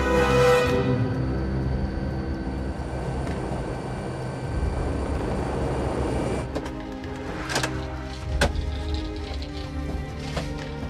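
Light aircraft engine drone on a first flight over a French village, a steady loud hum that cuts off sharply partway, followed by quieter rumble with a few sharp clicks.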